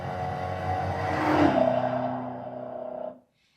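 A Dodge Charger EV plays its synthetic exhaust sound in a flyby, a broad whooshing engine-like tone that swells toward the middle and then cuts off abruptly. No one talks over it.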